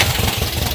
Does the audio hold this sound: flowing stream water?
no